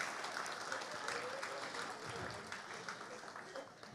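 An audience claps for a man named Suvarna, a steady, even wash of applause that holds for several seconds, heard at a distance and fairly quiet.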